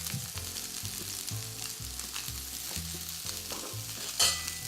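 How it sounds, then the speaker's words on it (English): Lamb loins searing in a hot pan, with a continuous crackling sizzle heard under louder background music and one brief sharp clink near the end. "Slowly getting a nice sear. A little longer on both sides."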